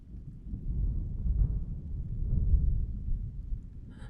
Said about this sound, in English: Somewhere in the distance, the sound of thunder rolled across the world.